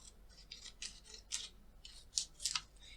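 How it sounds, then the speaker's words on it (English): Scissors snip through a paper wrapper, trimming off excess white paper in a quiet room: a series of short, crisp cuts in an uneven rhythm, with a few louder snips toward the end. "all you have to do is cut off the excess white"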